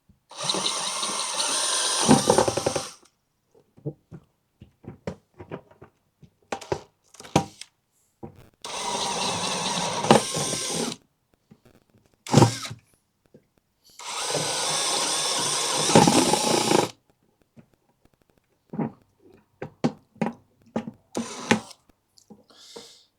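A power drill bores into plastic in several whirring bursts separated by pauses filled with clicks and handling noise, close and fairly loud.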